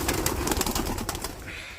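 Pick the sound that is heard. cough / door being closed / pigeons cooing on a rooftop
pigeons cooing on a rooftop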